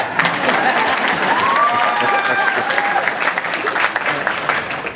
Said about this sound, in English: I would enjoy a round of applause after everything I say.